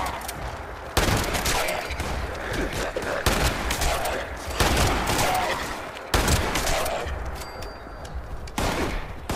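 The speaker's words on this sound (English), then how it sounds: "now would be the great time to pull out that shotgun" Repeated shotgun blasts and rapid gunfire in the video game Fallout, loud and close, with heavy volleys recurring every second or two through chaotic combat.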